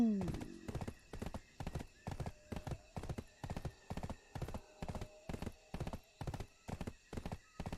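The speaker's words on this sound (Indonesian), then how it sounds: "Menikmati suara dentuman kaki kuda ya." Horse hooves clop in a steady, even rhythm in the video game Black Desert Online, close and distinct, with a brief whinny at the start and faint tones in the background.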